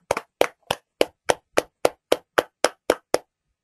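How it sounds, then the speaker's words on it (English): Eleven crisp, evenly spaced hand claps, close and dry, like one person clapping slowly before stopping. "a big round of applause for Shivdeep."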